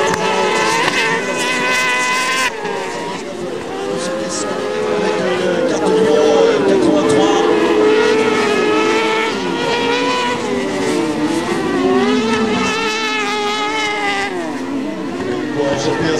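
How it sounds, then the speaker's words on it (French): Several race cars in a 2013 final at Naizin roar past with rising and falling engine whines and overlapping revs, loud and close, while a commentator talks over them. "Et ça roule, ça roule pour Anthony Gorin"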